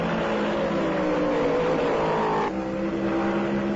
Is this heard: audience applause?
no